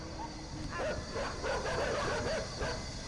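Dogs barking and yipping in the dark side-scrolling game Inside, several short bursts over a low rumbling game ambience with a faint hum.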